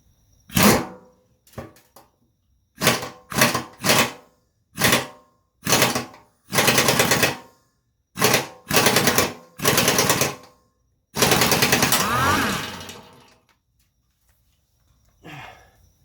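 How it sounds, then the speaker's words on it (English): Pneumatic air gun at low compressor pressure on rusted Yardman mower deck spindle bolts, loud close bursts of rattling hammering, about a dozen short blasts and one longer run separated by silences. "So now I'm trying a air gun. I've got the low PSI in the air compressor."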